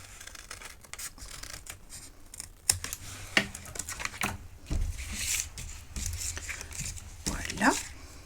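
Scissors snipping paper for a festive decorative candle holder, a series of close, crisp cuts and rustles with a voice talking over part of it.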